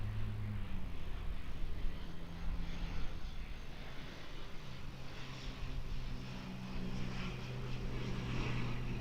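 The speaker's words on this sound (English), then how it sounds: "Frozen props on the ATR, just making its way into 23 left here from New Plymouth." An ATR turboprop airliner with its propellers turning, arriving from New Plymouth and landing on runway 23 left, makes a steady propeller drone with low tonal hum throughout, fairly distant and unbroken.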